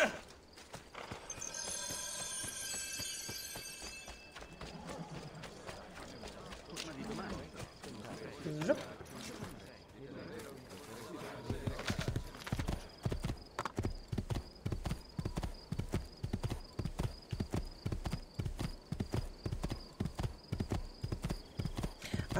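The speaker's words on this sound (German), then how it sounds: "Ich glaube, ich nehme mein Pferd." A horse whinnies, then hooves break into a fast, rhythmic gallop that pounds steadily and loudly for several seconds, with some talk early on, in the video game Assassin's Creed II.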